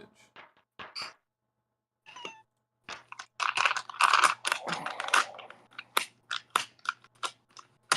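Computer keyboard typing in a quiet room, coming in short bursts of clicky keystrokes with pauses, one denser run in the middle, and faint voices nearby.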